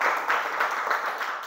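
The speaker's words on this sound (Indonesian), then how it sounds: "Tepuk tangan" Classroom applause from children during a primary school lesson, a brief, soft patter of clapping that stays steady and moderately close.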